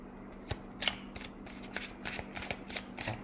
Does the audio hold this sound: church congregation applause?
no